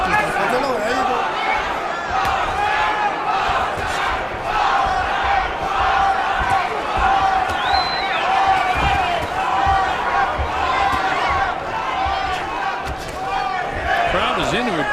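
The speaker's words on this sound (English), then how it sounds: "Crowd is into it, cheering it." A boxing arena crowd cheers and shouts continuously throughout a professional bout featuring Vasyl Lomachenko, a loud dense roar of voices with chanting swells and scattered whistles.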